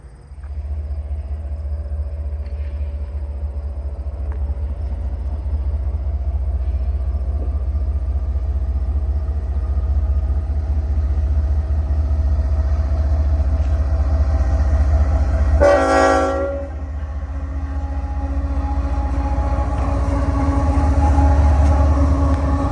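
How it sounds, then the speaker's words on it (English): A single CN locomotive running solo rumbles steadily past at close range, with a loud, brief horn blast midway and the engine drone carrying on afterward. "Just one solo locomotive and that's it."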